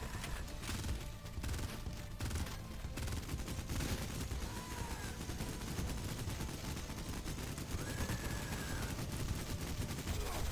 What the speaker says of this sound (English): Okay, yeah, rockets.